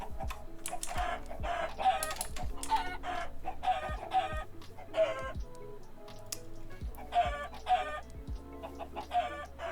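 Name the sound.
chickens clucking while being attacked in a video game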